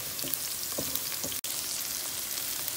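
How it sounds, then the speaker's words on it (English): Okra and onion browning in olive oil in a frying pan, a dense continuous sizzle with scraping stirs near the start and a momentary dropout in the middle, close and steady, no voices. "We are ready to fry the okra."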